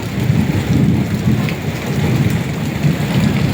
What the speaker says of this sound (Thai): ฟ้าร้องน่ากลัว